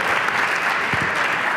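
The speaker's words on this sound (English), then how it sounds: "I want everyone to give our teams 2 rounds of applause" Brief, dense applause from an audience for the teams, a steady wash of many hands clapping with no voices over it.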